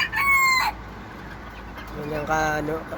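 Two bursts of loud, harmonic fowl calls, one short and one longer, separated by a quiet pause; a broody bantam hen's agitated clucking close by.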